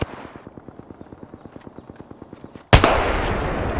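Apex Legends in-game gunfire: a fast, even burst of automatic shots rattles for over two seconds, then a sudden loud blast or explosion-like crash fills the rest, with no talking.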